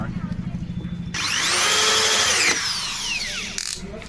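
A power drill drives screws into thick plywood while building a box, first a ratcheting low whir under a speaking voice, then a loud, close, sustained whine as a screw bites in, ending with a quick click.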